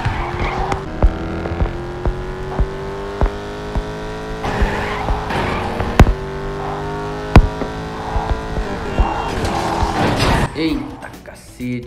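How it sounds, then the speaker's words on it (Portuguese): A racing car engine roars steadily in the video game Gangstar Vegas, with rising and falling revs, tires squealing at moments, a loud, continuous game-like motor drone throughout. "Deixa eu tirar a rádio pra gente ouvir o ronco desse motor"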